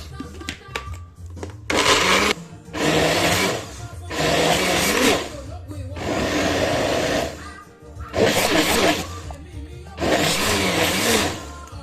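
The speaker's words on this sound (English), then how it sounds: "then cover it and blend" A blender whirs loudly in repeated bursts while blending okra and water, pulsing on and off several times with brief pauses between runs.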